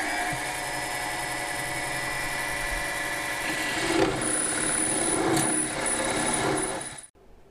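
An electric drill bores through a workpiece with a 15/16 inch Deming bit, a steady loud whirring grind with rising rattling bite that continues for several seconds and then abruptly stops, no speech.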